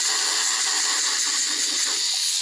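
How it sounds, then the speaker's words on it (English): A rotary angled porting handpiece grinds the corners of a port square, giving a steady, close high-pitched whine with faint pulsing as the burr bites into the metal. "So we can use this to shape just those corners"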